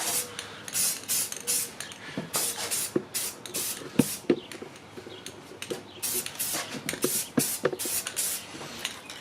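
Aerosol can spraying satin paint onto the inside edges of a car wheel, a run of short, close, hissing bursts in quick irregular rhythm with rattly clicks from the nozzle between sprays, no talking.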